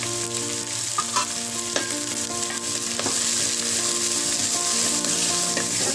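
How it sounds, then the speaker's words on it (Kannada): Chopped fenugreek leaves and peas frying for a South Indian methi pulao, giving a loud continuous sizzle with scattered spatula scrapes and taps, close up and without speech. "ಇದಕ್ಕೆ ಇದ್ರ ಜೊತೆಗೆ ಫ್ರೈ ಮಾಡಬೇಕು ಮೆಂತ್ಯ ಸೊಪ್ಪನ್ನ."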